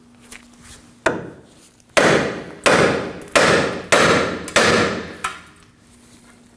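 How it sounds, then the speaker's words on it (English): A hammer strikes the bottom of a steering knuckle on a 2009-2014 Ford F-150 to free the lower ball joint, giving about seven loud, close metallic blows in a steady rhythm, each ringing out briefly. "Now we're going to strike the bottom of the knuckle to get the lower ball joint to release."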